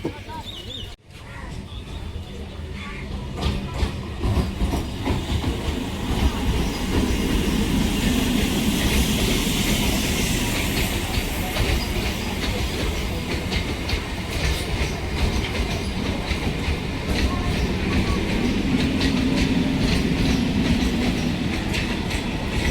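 An up local train running on rails, a loud continuous rumble with rhythmic clickety-clack close by, some wheel squeal and voices faintly underneath.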